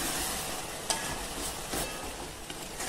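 Spring onion greens sizzle steadily in a hot pan, seasoned with amchur powder and Saoji masala, while a spoon stirs and scrapes with occasional louder knocks against the pan.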